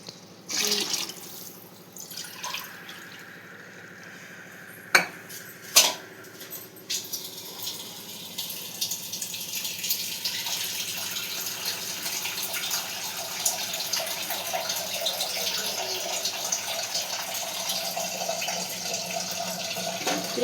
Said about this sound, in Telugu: వాటర్ పోసుకుందాం